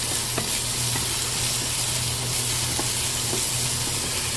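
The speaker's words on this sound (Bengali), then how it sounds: "এবারে বাটারের সাথে ভুট্টাটাকে ভালোভাবে নাড়িয়ে নেব।" Corn paste stirred with butter in a hot pan, a loud, continuous close-up sizzle with faint scraping strokes of a spoon, steady throughout, with no voices.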